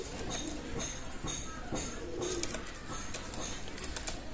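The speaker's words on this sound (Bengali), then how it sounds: "এক পেয়ার কবুতর আছে টেডি কবুতর" Teddy breed pigeons coo softly in a pen, low murmuring calls over a busy, noisy background with rustling and faint shuffling.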